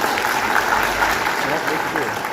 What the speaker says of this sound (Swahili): tupigie Dennis makofi mazuri.